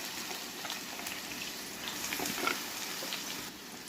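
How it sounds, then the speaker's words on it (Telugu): Chicken fries in hot oil with ginger garlic paste, giving a steady soft sizzle and crackle with a slight swell midway, close and unbroken. "ఆయిల్లో చికెన్ కొద్దిసేపు ఫ్రై చేయాలి."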